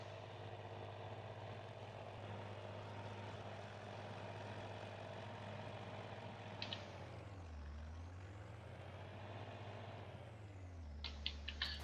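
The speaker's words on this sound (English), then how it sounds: "I left the tractor running, didn't I?" A tractor engine idling in Farming Simulator 19, a steady low drone that sags and rises in pitch midway, with a few faint clicks near the end and no talking.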